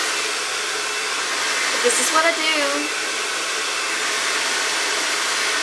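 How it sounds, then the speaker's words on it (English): A Rusk Speed Freak hair dryer on its low fan speed with hot heat blows a loud, constant airy roar up close. Someone briefly speaks over it while brushing. "But I usually put my hairdryer on hot, and then I use the low setting."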